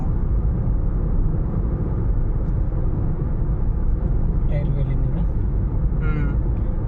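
A car runs fast along a road at about 100, a loud continuous rumble of engine, tyres and wind close up, with people talking faintly over it.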